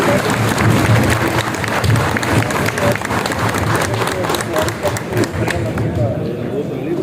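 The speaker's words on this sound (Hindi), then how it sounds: "सिर्फ मर्दाना अंदाज में तालियां बजाकर इनको खराज तहसीन पेश करेंगे।" Men seated in a hall at a real estate association gathering in Toba Tek Singh applaud together, a dense, steady roar of clapping that holds loud for the whole stretch, with crowd murmur beneath.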